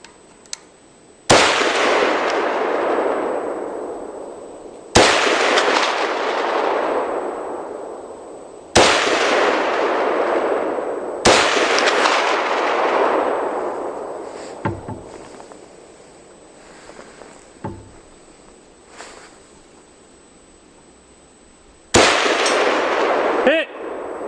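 AR rifle shots at an outdoor shooting range: five loud, sharp reports spaced several seconds apart, each with a long ringing decay, alongside fainter clatter and handling noises between them.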